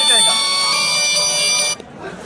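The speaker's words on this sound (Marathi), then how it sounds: "आता या मोबाईलवरती थोड्या वेळात फोन येणार" A mobile phone rings with a bright electronic ringtone, an automatic call from a farm water-pump motor controller after a phase fault, loud and steady for under two seconds before stopping.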